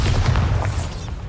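A Bombarda spell explosion in Hogwarts Legacy: a loud, dense booming burst with a rumbling low end that fills the whole moment, no talk over it.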